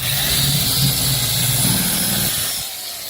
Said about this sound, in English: we're just hitting this with the wire wheel here